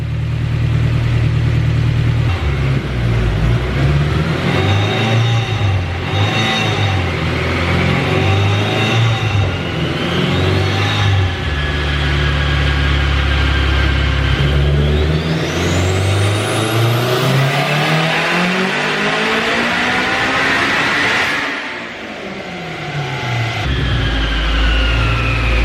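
A turbocharged Honda S2000 engine pulls hard on a dyno, its loud, steady roar climbing in pitch through a long sustained rev, then dropping off and building again, with turbo whine rising above the engine note.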